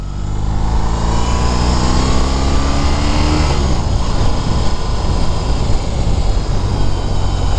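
A stock 2021 BMW R18 First Edition motorcycle engine and exhaust while riding, loud and close, with rising engine tones as it accelerates through gears, then a steady rumbling drone with wind rush.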